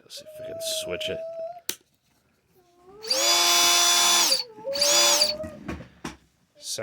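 Ridgid subcompact drill driver spins up in two loud whirring bursts with the motor pitch rising and falling, someone talking before and between them.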